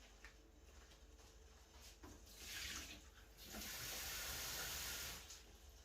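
Warm water is poured into a bowl in a home kitchen, giving a soft, steady splashing hiss that swells over several seconds, heard faintly and without talk.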